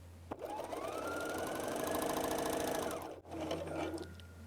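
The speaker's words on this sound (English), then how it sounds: "An overlock chain is also built without fabric." A Bernina L 660/L 650 overlock machine runs without fabric, forming a thread chain with a fast, even mechanical whir and rapid stitching ticks for about three seconds, then pauses briefly and starts again, close and clear.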